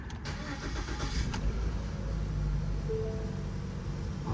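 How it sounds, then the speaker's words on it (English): A 2014 Ford Fusion with a 1.5L engine, recently showing fuel rail sensor fault codes, cranks briefly and starts, then settles into a steady, fairly loud idle, heard alone. "Now we're gonna start this car."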